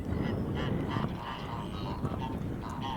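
Snow geese with a Ross's goose among them honk continuously in a busy, overlapping chorus, a dense flock calling close by with no gaps.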